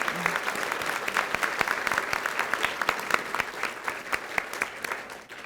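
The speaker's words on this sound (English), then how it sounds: "Please join me in another round of applause for our Voices of Peach Choir" An audience applauds an elementary school choir at a building dedication ceremony, many hands clapping in a continuous, moderately loud patter with sharp individual claps standing out near the front.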